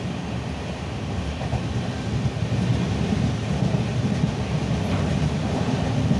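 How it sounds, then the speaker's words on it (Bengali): Passenger train travelling from Jharkhand to Howrah, heard from inside as a continuous deep rumble with faint rattling, steady and loud throughout with no talk. "26শে অক্টোবর 12:42 আমরা ট্রেনে উঠেছি"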